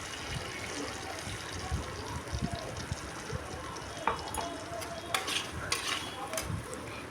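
Softened tomato and spices fry in a pan while a utensil stirs, giving a steady low sizzle with scraping and clinking taps, close by.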